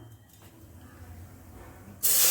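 A quiet kitchen background gives way to a sudden loud sizzling hiss as water hits a hot pan of semolina roasted in ghee near the end.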